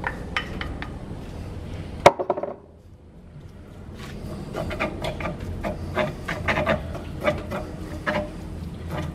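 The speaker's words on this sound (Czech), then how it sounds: "A do té pánve si mrsknete pěkně tu slaninu." Bacon dropped into a heated frying pan for spaghetti carbonara: a sharp clatter as it lands, a brief hush, then an irregular crackle and spitting of fat building close by.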